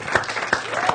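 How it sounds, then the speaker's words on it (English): An audience at an evening goal-achievement and productivity session applauds a presenter named Tiffany, with a brief, fairly close burst of clapping and a voice briefly audible within it. "Give Tiffany a big round of applause."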